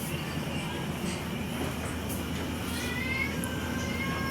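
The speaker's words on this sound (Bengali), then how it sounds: "দেখতে পাচ্ছেন বিড়ালটি মোমো খাওয়ার চেষ্টা করছে" A cat meows repeatedly while being offered momo, its cries standing out over a steady low background rumble.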